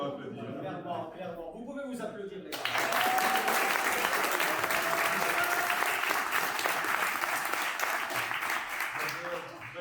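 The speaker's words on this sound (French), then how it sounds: "Vous pouvez vous applaudir, les gars." Talk breaks off and a hackathon audience bursts into sustained clapping, loud and dense, holding steady for several seconds before easing slightly.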